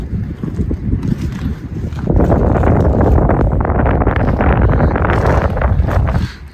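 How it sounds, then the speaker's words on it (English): Strong wind gusts blast across the microphone at an abandoned building, a loud low rumble that swells sharply partway through, holds for several seconds, then drops away. "There's too much wind."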